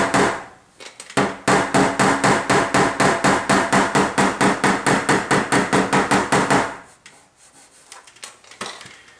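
A hammer taps a weld on the lower door skin of a 1997 Chevy in a rapid, even series of about thirty sharp metallic knocks up close, followed by a few quieter scattered taps.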